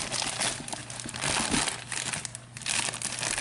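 Paper wrapping crinkles and rustles close up while a pair of women's Off-White Air Jordan Retro 4 "Sail" sneakers is unboxed, with a continuous crackling texture and no speech.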